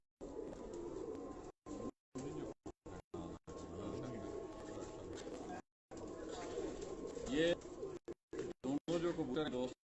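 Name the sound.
pigeons cooing, held in hand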